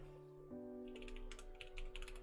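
Quick bursts of typing on a computer keyboard, clustered keystrokes clicking over a steady background hum, with no one speaking.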